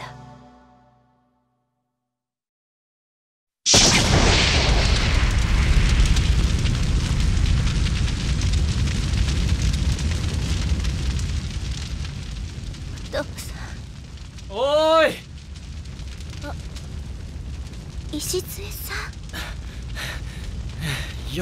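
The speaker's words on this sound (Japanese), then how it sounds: "何なんだこの爆発は" Explosion effect in a Clock Tower Ghost Head horror drama CD: a sudden loud blast erupts after near silence, then a long roaring rumble slowly fades, with brief whistling sounds and faint noises near the end.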